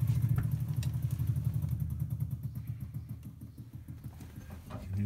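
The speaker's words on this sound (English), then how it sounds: "You can hear the pump going, which is a good start." Electric fuel pump ticking on a classic Land Rover 80-inch, a fast, steady rhythmic clatter heard close and continuous throughout, gradually fading slightly toward the end.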